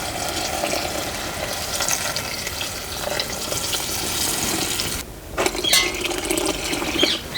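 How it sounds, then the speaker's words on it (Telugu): Water being poured into a pot of dry prawn rasam with tamarind, producing a steady close splashing pour that runs throughout, with a brief clink near the end, with no talking. "750 ml వాటర్ పోసుకుందామండి."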